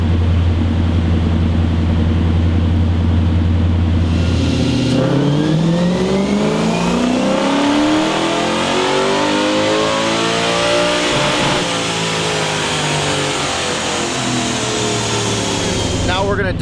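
A 1UZ V8-swapped mini-truck strapped to a dyno idles loudly, then revs up in a long rising pull that peaks and eases slightly before climbing again, roaring close throughout.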